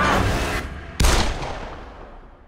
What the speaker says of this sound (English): Did you shoot me?